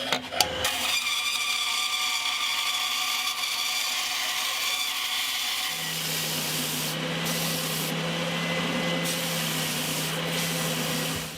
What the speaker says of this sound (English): So I just need to cut that out and cut it out of this mahogany.